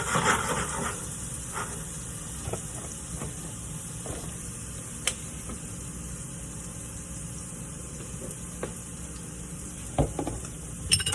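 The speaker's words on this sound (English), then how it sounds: "we're just gonna saute these in the skillet until it gets warm" Vegetables sauté in a skillet with a steady, soft sizzle and hiss, dotted with a few faint clicks and taps of the pan, and no one speaks.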